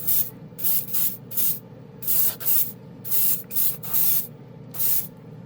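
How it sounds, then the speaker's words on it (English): Airbrush or spray gun spraying ATOM acrylic paint thinned with alcohol, heard as a rhythmic series of about nine short, loud hissing bursts with brief pauses between them, over a low steady compressor hum. "It sprays like a lacquer or a solvent."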